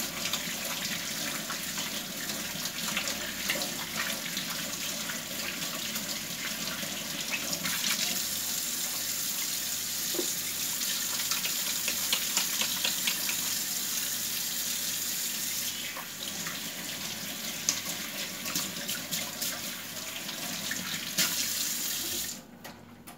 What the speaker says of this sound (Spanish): Yo ahora me voy a lavar las manos para poder levantar el frasco tranquilo.